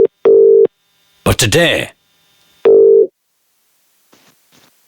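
A telephone line beeps as a call to a phone guest connects: steady tone bursts, a brief voice, another tone burst, then faint clicks, loud and close.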